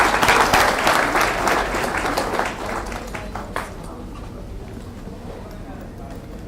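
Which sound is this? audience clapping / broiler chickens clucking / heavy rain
audience clapping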